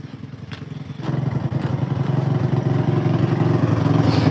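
A vehicle engine idles with a steady low rumble, close by, growing a little louder and rougher after the first second and continuing alone without talk.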